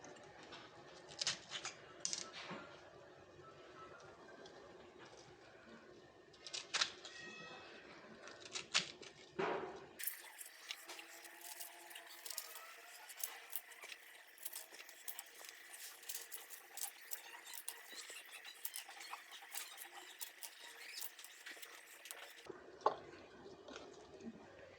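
Cabbage being chopped into fairly large pieces for a Bangladeshi beef and cabbage curry, a steady run of crisp cuts and crunches, close and unaccompanied by speech.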